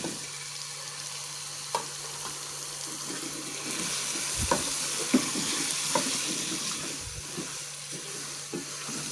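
Half a kilo of potatoes frying and being stirred in a pan for a mixed aloo matar gajar dish, a steady sizzle broken by scattered scrapes and clicks of the spoon.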